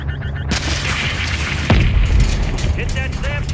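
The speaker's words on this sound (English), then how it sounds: "Hit that SAM site with a missile. Good impact. Target destroyed." In Call of Duty MW3, a missile strikes an enemy SAM site, setting off a heavy booming explosion with a deep rumble. It follows chaotic gunfire and radio chatter, and voices keep talking over it.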